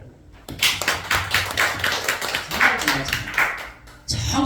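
A congregation claps together during a Sunday afternoon Korean church service, a steady run of sharp, even claps in a reverberant hall that ends abruptly.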